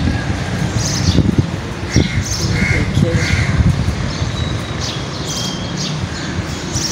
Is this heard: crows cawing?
yes